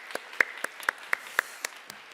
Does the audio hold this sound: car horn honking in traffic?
no